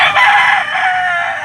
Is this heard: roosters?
yes